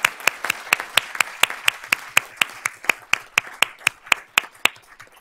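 Audience applause at a school board of trustees meeting: sparse, distinct claps in a quick, fairly regular rhythm, close and crisp, as if from a small group, without any talk.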